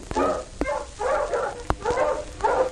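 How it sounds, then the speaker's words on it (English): Dogs barking at a fenced old house with barred windows in an animated cartoon, several sharp barks in quick succession, fairly close and loud with no talking. "Oh, dogs!"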